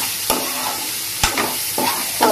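Capsicum egg curry sizzling over a medium flame, a steady loud fry broken by a few soft stirring scrapes, with no one speaking.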